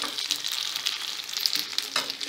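Noodle pan frying in a skillet, a steady close sizzle with crackling bursts and occasional stirring scrapes, no talk.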